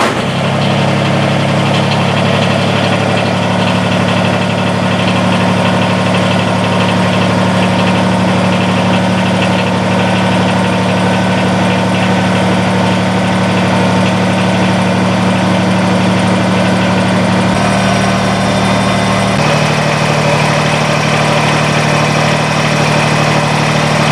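A Kubota compact tractor fitted with a backhoe idles steadily nearby, its mid-pitched engine drone holding an even, constant note with a slight shift in tone near the end, no voices present.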